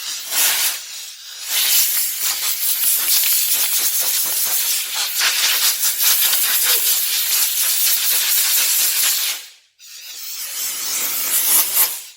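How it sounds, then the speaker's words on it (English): A garden hose sprays water over a juniper bonsai and the dirt-covered top of its pot, a steady close hissing spray running for most of the stretch with a brief break near the end before resuming. "Spray the tree off."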